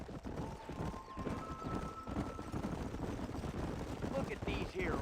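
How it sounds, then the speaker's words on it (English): Hooves clopping on the ground with occasional horse snorts and a whinny in a Western open-world game, steady rhythmic steps under dense ambient game sound and background score. "Look at these here horses"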